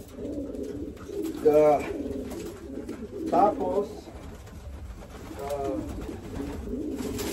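Soft pigeon coos repeat at intervals close by, low throaty calls over a steady background hum, with a person talking in between.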